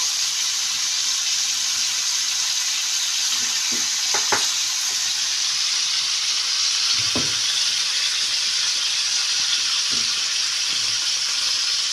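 Meat and onions fry in a pot over low heat for a stovetop kebab, giving a loud, continuous close-up sizzle. A few soft stirring knocks and scrapes break through now and then.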